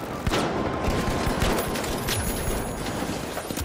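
Dense gunfire from the shooter game The Finals, sustained rapid shots and impacts filling the whole span with a loud, continuous crackle and no clear talk over it.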